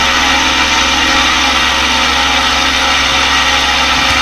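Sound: Aeroprakt A-22 light aircraft engine throttling up

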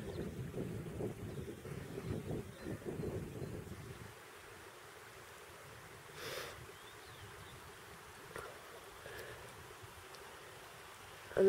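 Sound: river water murmuring

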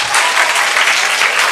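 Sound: audience applauding a student

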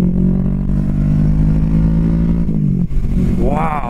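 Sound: Kawasaki Vulcan S 650 cruiser motorcycle accelerating

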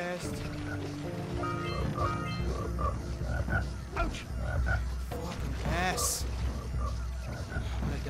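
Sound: frog croaking in Jak and Daxter video game

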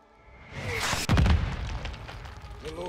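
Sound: mortars launching and exploding, Call of Duty MWII video game

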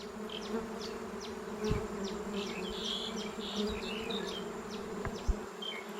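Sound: dwarf honeybees buzzing around their nest

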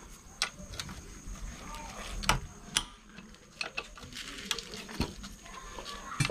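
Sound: unscrewing 12 mm bolts on a Honda Dio scooter engine

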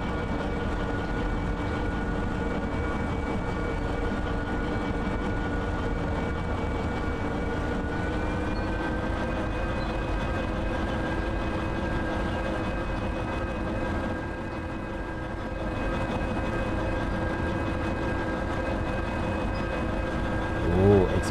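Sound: ST44 diesel locomotive running, from video game Derail Valley

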